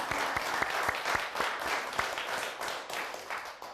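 An audience at a televised laughter lecture claps together, a steady, moderately distant applause with rhythmic accents running throughout.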